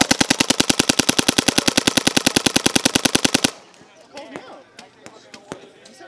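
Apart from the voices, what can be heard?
gun firing in bursts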